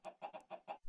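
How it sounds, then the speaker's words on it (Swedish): A Minecraft chicken clucks in five quick, evenly spaced bursts as it lays an egg in the video game, faint and alone. "Och någon som la ett ägg nyss eller? Tyckte jag hörde det."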